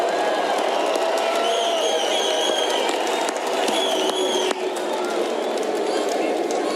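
Large crowd at an outdoor political rally in Arizona cheering and roaring in a sustained wash of voices, with whistles and shouts cutting through, loud and continuous.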